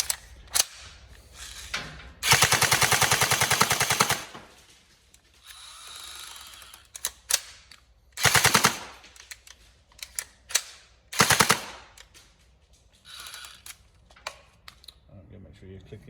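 Tokyo Marui MK46 NGRS airsoft electric gun firing in several loud, close bursts of rapid mechanical rattling, separated by pauses with clicks and handling noise.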